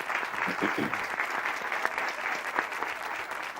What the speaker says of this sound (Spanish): Y este aplauso